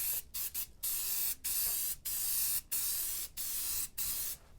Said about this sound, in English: Just giving it a good shake, and we're gonna get the spraying. All right, just gonna cover this whole area.